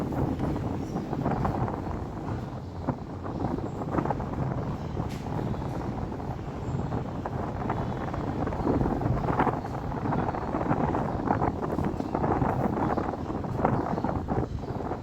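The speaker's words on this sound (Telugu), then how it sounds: "విపరీతమైన గాలి గాలికి అసలు వీటమే కష్టమైంది" Strong wind roars steadily into the microphone, a dense continuous rumble with gusty surges and no voices throughout.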